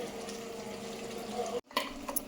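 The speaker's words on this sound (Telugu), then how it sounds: "ఇప్పుడు మన కీమా ఉడుకుతుంది కదా" Minced-meat keema curry simmering in a pan, a soft continuous bubbling and sizzle with small pops, briefly cut off by a moment of silence before resuming.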